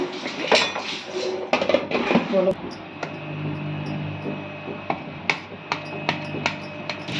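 Cooked vadacurry ingredients tipped from a pan onto a plate: a burst of metal scraping and clattering of pan and utensil, followed by a sparse run of sharp, close metallic taps and clinks against a faint hum.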